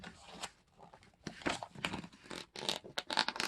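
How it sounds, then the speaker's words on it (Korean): A paper cutout of a class newspaper is torn out of a fourth-grade Korean language workbook along its perforations, producing close, irregular bursts of ripping and rustling with short pauses between pulls. "네, 이렇게 부침 4번을 뜯어보았는데요."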